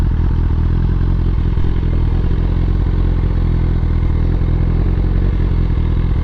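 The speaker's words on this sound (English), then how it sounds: "Nothing sounds better than this bike, man." A BMW S1000RR sport motorcycle engine runs steadily up close, a loud, throaty rumble with a rattling, clattery edge that holds constant without revving.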